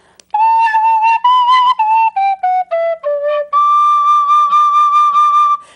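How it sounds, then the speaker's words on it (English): A Sweet Tone penny whistle made in England plays a short, clear melody of bright, pure notes, some tongued separately and others slurred, ending on a long sustained tone, solo and close. "it's like a penny whistle. It was made in England. It's called a sweet tone."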